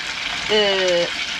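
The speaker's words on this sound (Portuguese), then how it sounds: "Vou virando aqui o bacalhau, que é para ficar frito em ambas as partes." Cod fillets frying in a pan inside a camper van, a steady close sizzle and crackle with a brief louder burst of hissing as a piece is turned.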